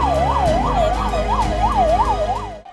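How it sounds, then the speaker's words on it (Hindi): A loud, close ambulance siren wails in a steady rising-and-falling cycle, about seven sweeps, as ambulances rush toward a nighttime stampede scene at the Mahakumbh fair, fading at the end. "फौरन तमाम एम्बुलेंस घटनास्थल की तरफ दौड़ने लगी"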